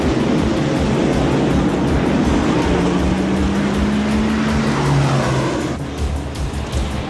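Race cars roar loudly and steadily around an oval short track in a late-race run, engine drone continuous throughout with a rising pitch sweep midway as a car passes close, fading slightly near the end.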